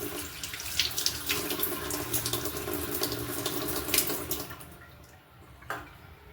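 Lemon-soaked items are washed under a running tap, a continuous splashing stream of water over them that eases and thins near the end, with a brief knock.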